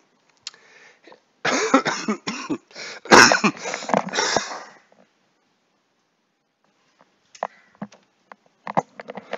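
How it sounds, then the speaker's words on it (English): A burst of repeated harsh coughs, close and fairly loud, then a pause before a few more scattered coughs near the end. "try not to cough on you guys"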